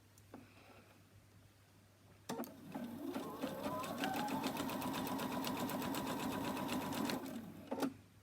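Sewing machine stitching a bonnet, a steady close whirring run of needle strokes lasting several seconds, starting after a few quiet moments with faint speech.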